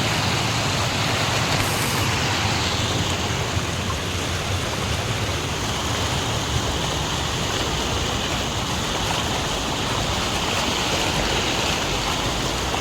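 Floodwater of the Brahmani river rushes through a village, a loud, steady, unbroken roar of churning water that holds for the whole stretch with no voices over it.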